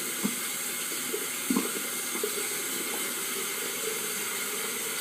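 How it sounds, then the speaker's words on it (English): Tap water runs steadily into a sink as hands are rinsed, a constant close hiss broken by a few soft splashes and knocks. "So I'm just going to rinse my hands."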